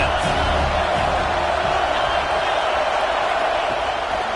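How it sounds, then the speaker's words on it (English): Stadium crowd at a Mississippi State versus Tennessee college football game in College Football 26, a loud, steady roar of massed voices filling the whole stretch, with commentary spoken over it. "This crowd trying to make life miserable for this offense."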